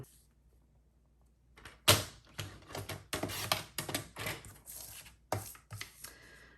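A paper trimmer cuts down a piece of paper card for a handmade holiday card. After a quiet start there is a sharp thunk, then a run of rough sliding, cutting strokes up close.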